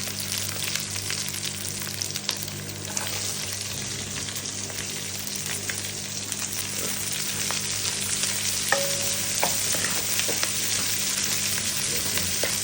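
Onions sautéing in a pan until translucent produce a steady, close sizzle with faint crackles and light stirring knocks, growing slightly louder toward the end.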